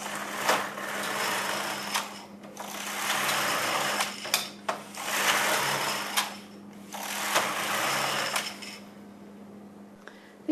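A Singer System 9000 knitting machine carriage pushed back and forth across the needle bed to knit 1x1 ribbing, making repeated whirring, clattering passes with short pauses and clicks at each turnaround, close and clear.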